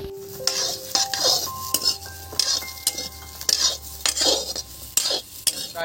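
A spoon stirs mashed potato and pointed gourd, making repeated close metallic scrapes and clinks against the bowl in an uneven rhythm, with no talking.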